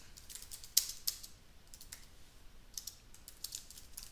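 Someone types code on a computer keyboard, sparse light clicks with a few sharper keystrokes, quiet and close with gaps between taps.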